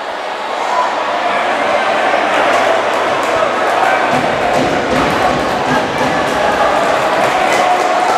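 Handball arena crowd giving an ovation to a player returning after a hard knock, a loud sustained roar of cheering and clapping filling the hall throughout, with a commentator's voice faintly underneath.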